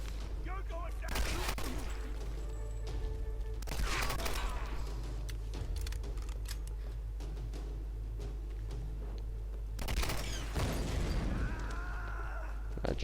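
Gunfire in Tomb Raider Definitive Edition arrives as dense bursts of rapid shots in a few clusters over a constant low rumble, moderately loud, with a voice talking intermittently over the action.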